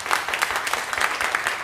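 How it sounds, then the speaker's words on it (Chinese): A church congregation at a Sunday worship service claps together in a short burst of scattered, steady applause. "以上咱来鼓掌"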